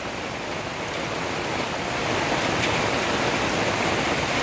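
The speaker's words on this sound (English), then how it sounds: "It is just pouring." Heavy rain pours down outdoors during a thunderstorm, a dense, steady, close hiss of downpour that grows slightly louder and continues without a break.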